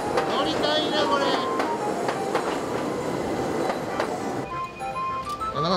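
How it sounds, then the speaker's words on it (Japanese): A Japanese street tram rumbles past nearby with rhythmic clatter on the rails and a brief wheel squeal, while people talk over it in the foreground. "路面電車が。 あ、来た。 わーい、電車だ。"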